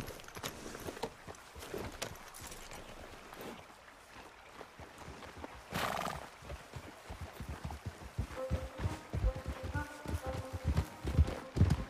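Hooves clip-clopping at a walk in Red Dead Redemption 2, soft repeated footfalls with a brief snort-like burst midway, quiet ambience around them and no speech.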